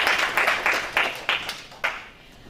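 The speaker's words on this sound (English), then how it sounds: "Can you all clap for yourselves?" A room of university debate teams claps for themselves after a competition at Chuka University, Kenya, a loose patter of hands that fades quickly and ends within a few seconds.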